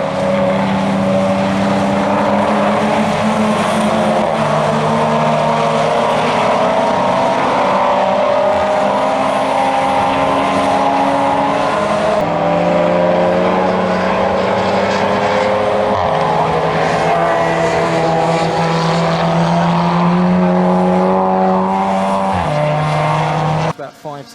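Racing cars at Oulton Park, a Honda followed by two Mazdas in an endurance race, roar loudly and continuously with engine notes rising and shifting through gear changes, while a commentator talks over them.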